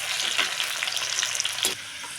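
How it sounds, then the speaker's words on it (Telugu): Sweet corn kernels fry in hot oil under a lid for crispy corn, giving a steady, close sizzle dense with fine crackling pops and a few sharper spits, with no voices. "ఇప్పుడు ఇవి ఇలా మూత పెట్టుకొని జాగ్రత్త వేయించుకోండి"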